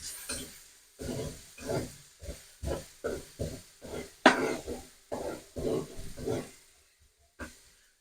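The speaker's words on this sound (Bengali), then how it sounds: "রসুনটা একটু ভেজে নেব" Seven or eight large crushed garlic cloves fry in hot oil for taro leaf greens, with a steady series of stirring and sizzling bursts that fade out near the end.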